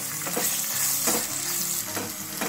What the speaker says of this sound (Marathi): आता सर्व आपण तेलात छान असं परतवून घेऊ।